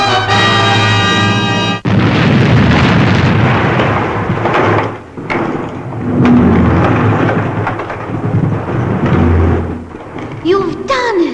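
An explosion effect from the Fireball XL5 episode Dangerous Cargo: a brief tone cuts off into a loud, sustained roaring rumble that swells and fades over about ten seconds, close and dominant.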